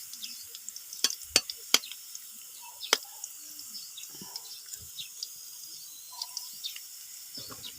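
Rekado spices browning in a pan for adobong labong, a soft steady sizzle with a few sharp clinks of utensils against the pan near the start.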